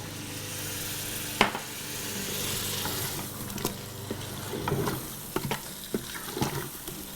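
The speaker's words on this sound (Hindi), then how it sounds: "देखिए 2-3 मिनट हो गई है हमारे चिकन को भूनते हुए मसाले के साथ।" Chicken browning with spices inside an Instant Pot gives a continuous low sizzle and frying hiss, broken by occasional sharp scrapes and clinks of stirring toward the end, close and fairly quiet with no voices.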